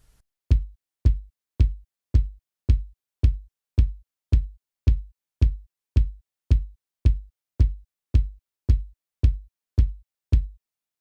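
Heavy electronic kick drums with two layered sub kicks, made in FL Studio for a Seben beat, pound in a steady four-on-the-floor rhythm, each thump deep and sub-heavy, repeating about twenty times with nothing else playing.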